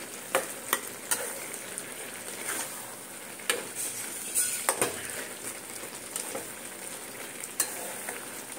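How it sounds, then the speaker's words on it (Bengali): A metal spatula pressing and scraping boiled potatoes and taro in a pan, quiet sizzling underneath with a series of sharp, irregular scrapes and taps standing out close by, no talking. "এইভাবে খুন্তি দিয়ে একটু চেপে চুপে দিতে হবে"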